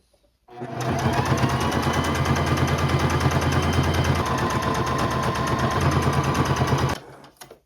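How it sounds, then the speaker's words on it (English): A sewing machine top-stitches a once-rolled hem across a neckline of non-fraying fabric on a thrifted garment, running in one continuous, close, rapid rattling burst of about six seconds with no talk. "I can get away with rolling it under once, and then I'm gonna do a top stitch across."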